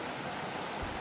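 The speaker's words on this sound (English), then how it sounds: "so I'm out here in the pouring rain" Steady pouring rain falling outdoors around a gazebo, a dense, even hiss of drops with occasional nearer patters, no voices.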